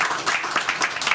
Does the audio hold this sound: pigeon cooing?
no